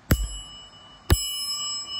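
A Shimano brass bicycle bell, made in Japan, is struck twice about a second apart. Each strike gives a bright ding whose ringing tone lingers and fades, clear and close against a quiet room.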